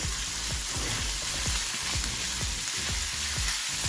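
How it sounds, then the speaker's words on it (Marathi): Pav bhaji masala with coriander being stirred and fried on a hot griddle: a constant loud sizzle with repeated scraping strokes of a spatula in a quick uneven rhythm, close up. "छान मिक्स करून घ्यायचं"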